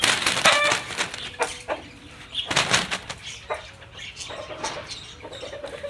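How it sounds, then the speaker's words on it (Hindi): A hen clucks in short bursts while wings flap in loud, brief flurries close by, with other birds calling faintly in the background. "ये मुर्गी भी अंदर घुसी हुई है,"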